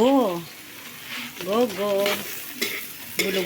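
Tofu sautéing in a hot pan, a bright continuous sizzle broken by scraping stir strokes of a utensil, with someone talking over the cooking.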